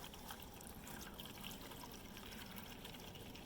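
Water flows steadily from a 12 volt DC pump drawing from a well, a faint continuous trickling splash with no pauses and no talk.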